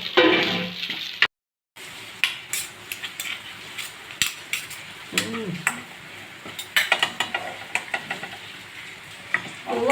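Leftover idli upma with tempering is stirred in a pan, producing repeated close scrapes and clinks of a spoon against metal over a low sizzle, with one brief silent gap near the start.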